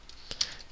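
A couple of quiet, sharp keystrokes on a computer keyboard while Java code is typed, heard alone in a very short moment.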